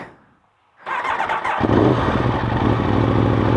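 A superbike motorcycle engine starts up after a brief near-silence, then runs loud and close with a rough, steady mid-pitched idle rumble.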